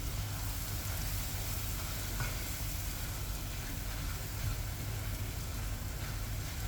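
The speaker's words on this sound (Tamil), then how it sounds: "அதே நெய்யில் நம்ம இந்த நார் நீக்கின இந்த சக்கரவள்ளி கிழங்க சேர்க்குறோம் அதையும் நல்லா வதக்கிக்கலாம்" Sweet potato pieces sautéing in ghee in a pan while making halwa, a soft, steady sizzle and crackle heard close up without any talk.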